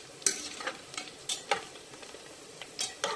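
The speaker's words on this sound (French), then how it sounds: "essayez de touiller pour pas que ça brûle et ça cuit" Oriental babouche pastries being stirred as they fry in a pan, with soft scraping and stirring strokes coming in irregular bursts over a low, steady sizzle.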